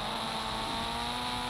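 A vehicle engine hums steadily at constant revs in the driving game Indian Bike Driving 3D, a continuous, fairly quiet drone with no variation or talk.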